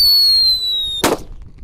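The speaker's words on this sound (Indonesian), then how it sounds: "Ada mercon Whistling Thunder yang warna merah ya." A red Whistling Thunder firecracker set in a hole in the ground gives a loud, steady high whistle for about a second, then cuts off in one sharp, close bang that rings briefly.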